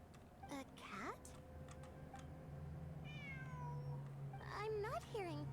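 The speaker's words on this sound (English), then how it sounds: "It really is a cat." Repeated cat meows inside the Genshin Impact game, rising and falling cries near the start, mid-clip and end, heard over a steady low hum with a person talking in places.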